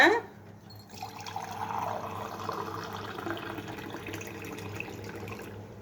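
Water is poured into a pot for flour dough, one glass of water per glass of flour, making a steady close splashing and filling rush that continues evenly after a brief louder start.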